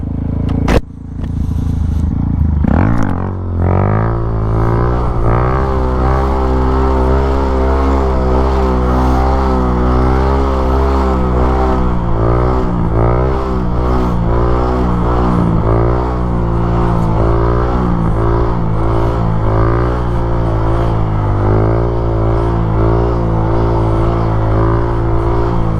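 A motorbike engine revs hard during wheelie practice in a parking lot, loud and close, its pitch climbing and dipping in repeated surges of throttle with no talk over it.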